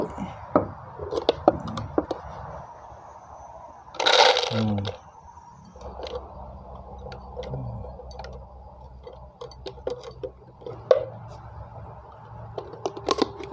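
Soaked, swollen mung beans poured into a bottle: scattered light clicks and ticks, then a brief louder rattling rush, with faint sparse tapping in a quiet room.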